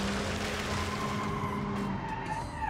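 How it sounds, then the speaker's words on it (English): Car tires squeal and skid as the car understeers in BeamNG.Drive, a steady loud screech over engine drone lasting the whole moment. "Oh, catastrophic understeer."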